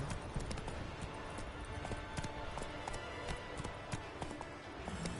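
Roach the horse gallops in The Witcher 3, steady rhythmic hoofbeats drumming at a quick pace over a soft background bed throughout.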